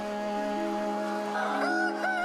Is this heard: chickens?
yes